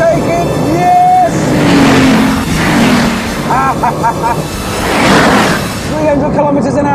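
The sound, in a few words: Bugatti Veyron engine accelerating at high speed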